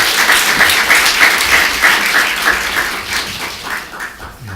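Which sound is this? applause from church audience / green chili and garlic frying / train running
applause from church audience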